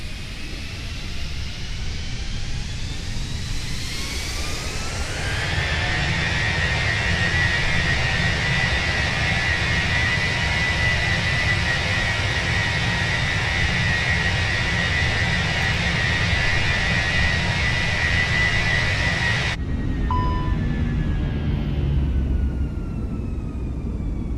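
Airbus A320 jet engines spool up to go-around thrust in a flight simulator, a loud, rising whine settling into a sustained roar that drops away abruptly near the end, with almost no talking.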